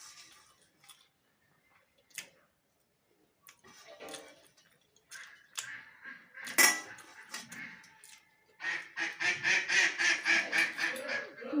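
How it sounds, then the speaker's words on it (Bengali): A flock of domestic ducks returns home to a village yard, first with scattered clinks and faint sounds, then a burst of loud, rhythmic, rapid quacking close by near the end. "মায়ের হাঁসগুলো সব চলে এসেছে"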